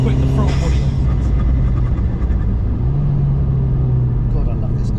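An Alfa Romeo MiTo Cloverleaf hums along a country road, a steady loud engine drone with rumbling road noise and no break in it.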